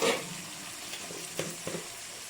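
Ginger garlic paste sizzles softly in a pan with cooked green chilies for a fish curry, a steady quiet frying hiss broken by a few faint stirring scrapes, with no talking.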